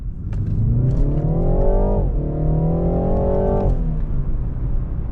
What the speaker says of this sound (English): I was gonna accelerate here. Or I think I still can. I think I have space. Let's do it in first gear.